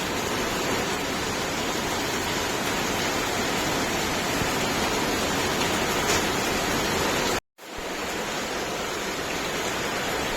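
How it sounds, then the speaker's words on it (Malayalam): Heavy rain pouring down steadily, a dense continuous roar at close range that cuts out for a moment before resuming. "അടിപൊളി മഴയാ"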